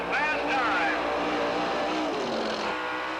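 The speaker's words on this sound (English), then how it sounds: "Kelly Kinzer, that 47 Butch and Janie Smith sprint car, an Osborne chassis with Goody engines." A sprint car on an Osborne chassis with a Goody engine roars loudly at the 1985 Eastbay Raceways Sprint Winternationals, its pitch rising and falling as it races past, with an announcer talking over it.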